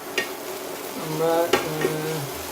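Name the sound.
ladle pressing and stirring eggplant mash in a frying pan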